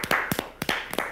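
A handful of people clap their hands on a Quebec reality-TV set, giving roughly six sharp, close claps in an uneven rhythm with short gaps between them.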